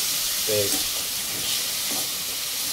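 Tomatoes sautéing in a pan for a Dharmapuri-style fish curry, a dense continuous sizzle and hiss close by, with faint brief voices murmuring underneath.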